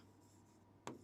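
A single short marker or chalk stroke on a board during a maths class on sets, one quick scratchy burst near the end of an otherwise quiet stretch with low room hum.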